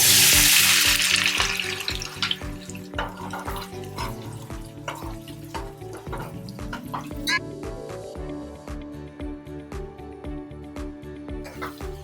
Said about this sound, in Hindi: ओनियन को अच्छे से गोल्डन ब्राउन होने तक फ्राई करेंगे।